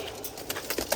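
Pigeons being bathed in summer heat coo briefly, low soft warbles surfacing near the end over faint background rustle.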